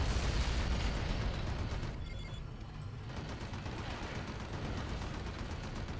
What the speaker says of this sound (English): Let's just shoot you as well.